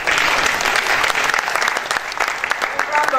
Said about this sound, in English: A round of applause for Esther.